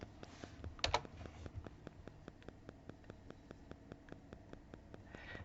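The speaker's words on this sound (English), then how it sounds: "We'll type in 5877." Keys tapped on a computer keyboard in a quiet room, a few quick clicks followed by slow, evenly spaced single keystrokes, faint and close, with no talking.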